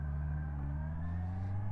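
A 2024 Honda CBR650R E-Clutch motorcycle pulls away in first gear with a steady, close engine drone and strong low rumble that rises gently in pitch.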